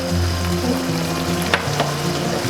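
Tteokbokki sauce sizzles and bubbles in a pan as soy sauce goes in, a steady close frying hiss with a couple of brief sharp crackles.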